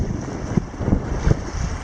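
Steady wind blowing beside a lake in the Boundary Waters, a constant broad rushing roar with gusty swells, close to the microphone and buffeting it.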